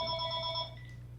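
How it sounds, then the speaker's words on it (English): An incoming call rings on a phone nearby during a lecture, a steady electronic ringtone with bright layered tones that cuts off partway, over low background hum and no talk. "Sorry, phone call."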